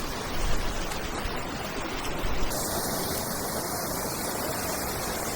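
Paltau waterfall in a mountain valley gives off a steady, close, full rushing roar of falling water with no other sounds.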